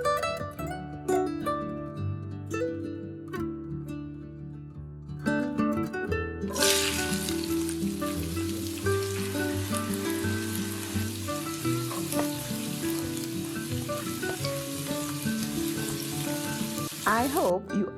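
Food frying in a pan gives a steady, dense sizzle that swells partway through and continues loudly, with background music playing underneath throughout.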